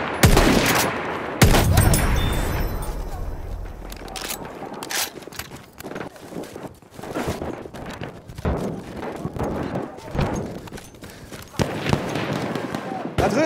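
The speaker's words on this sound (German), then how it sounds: "Ein Maschinengewehr!" Rapid bursts of machine-gun fire amid a busy Battlefield 1 battle, with dense, overlapping shots, impacts and other combat noise throughout.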